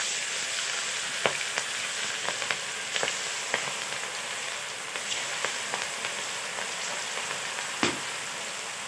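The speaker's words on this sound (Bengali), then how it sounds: "কড়াইতে তেল দিয়ে দিয়েছি, তেলটাও গরম হয়ে গেছে। এবার কিন্তু আমি মাছটা ছেড়ে দেব।" Spiced fish frying in hot oil in a wok, a steady close sizzle with scattered sharp pops and crackles throughout, no talking.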